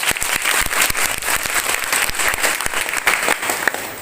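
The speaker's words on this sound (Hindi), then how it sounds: "एक जोरदार ताली के साथ सर का स्वागत।" Loud, close applause welcoming a guest speaker at a Modern ITI placement event in Bikramganj, sharp individual claps standing out within a steady burst of clapping.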